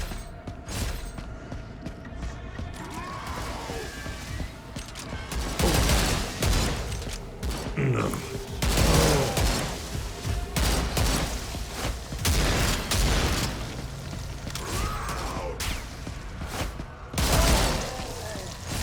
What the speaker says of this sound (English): the 3-shot burst fire is really good for those guys